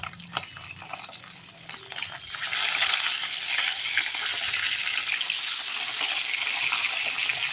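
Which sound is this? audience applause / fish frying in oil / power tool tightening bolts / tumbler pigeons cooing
fish frying in oil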